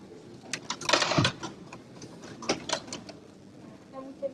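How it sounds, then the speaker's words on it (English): Gutenberg-style printing press in a Bible museum being pulled to press a page: scattered wooden creaks, clunks and knocks, the loudest burst early on, then lighter mechanical taps. "So, we will give this machine a good press."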